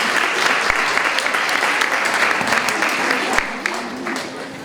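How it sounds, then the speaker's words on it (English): A full room applauds at a December 2019 BSN nursing pinning ceremony, sustained crowd clapping with a few sharper claps standing out and a voice faintly audible beneath it. "So I ask that you give yourselves a round of applause"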